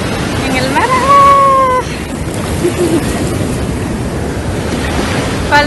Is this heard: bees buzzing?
no